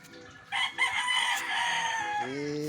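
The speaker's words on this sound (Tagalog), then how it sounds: "Pinopromote ko lang ang manok ni Art Atayde." A rooster crows once, nearby and loud, its drawn-out call ending in a falling note.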